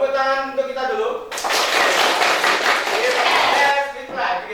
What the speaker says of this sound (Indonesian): Tepuk tangan untuk kita dulu.